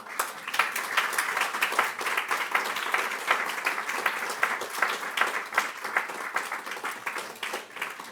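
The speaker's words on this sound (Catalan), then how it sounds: "I us demano per tots ells un fort aplaudiment" Audience at a Catalan campaign presentation with Down syndrome organisations gives sustained applause, a steady wash of many hands clapping at moderate distance, with no talking.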